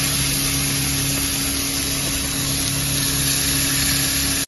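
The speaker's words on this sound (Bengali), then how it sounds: "ভেজে নেব, চিকেনগুলো ভেজে নিয়ে আপনাদেরকে দেখাচ্ছি কেমন হচ্ছে" Chicken pieces frying in a pan make a loud, continuous hiss and sizzle with a steady drone beneath, running unbroken until it cuts off abruptly at the very end.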